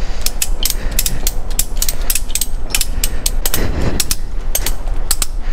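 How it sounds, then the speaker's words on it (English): Ratchet straps cranked tight on a ferry deck before a Channel crossing, a steady run of sharp, rapid clicking bursts repeating close by over a constant low hum of engine and ambient noise. "they provide ratchet straps. Who brings their own ratchet straps on a ferry?"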